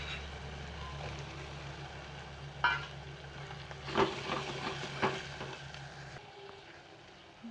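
Onion, tomato and masala fry for a brinjal curry, a low steady sizzle with a few louder stirring clatters, over a background hum that drops away near the end.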